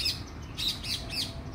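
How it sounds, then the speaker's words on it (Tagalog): Green long-tailed birds squawk in the morning, three or four harsh, shrill calls in quick succession, moderately near, with no talking. "Daming ibon dito pag umaga. Iba't ibang klaseng ibon."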